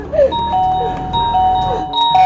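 An electronic doorbell rings out a series of clear, sustained chime tones, close and fairly loud, with faint room noise between the notes.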